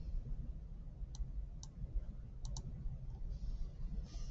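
Several soft, quick mouse clicks on a computer while working in an Excel spreadsheet, short isolated ticks spread across a few seconds over a low background hum, with no talking.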